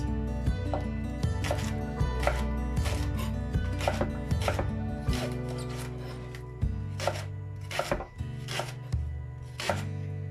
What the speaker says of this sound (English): I'm gonna cut a little bit more, some more leeks.